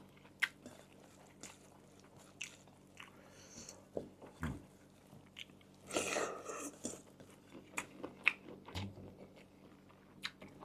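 Someone eats rice with spicy Mon-style sea shrimp curry close up, with soft intermittent chewing, biting and crunching sounds separated by quiet gaps.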